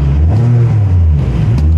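A Ferrari engine revs hard in neutral with the paddles pulled, a loud, steady low roar that holds close and full for under two seconds with a slight dip midway.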